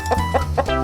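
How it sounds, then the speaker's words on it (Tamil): Several short clucks from a chicken in a quick, uneven series, close and fairly loud over a low steady hum, with no speech. "கோழி"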